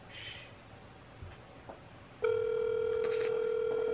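An outgoing WhatsApp video call starts ringing on a phone, a steady electronic ring tone that cuts in partway through after near silence and holds loud and constant to the end.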